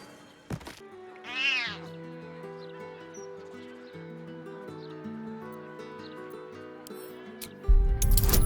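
A cat in the video game Baldur's Gate 3 gives one clear rising-and-falling meow, close and alone, set against a soft sustained musical score with a thump near the start and a louder hit at the end.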